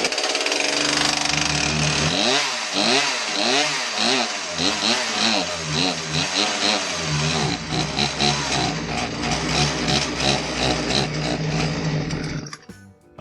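A Poulan Pro PR5020 chainsaw with a generic carburetor is pull-started and runs roughly, with rhythmic pulsing surges and a buzzing engine tone that cuts out near the end.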